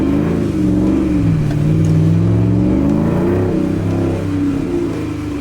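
A Dakota pickup accelerates, its engine note climbing steadily through the revs and drifting in pitch, loud and close from inside the cab, with no talking.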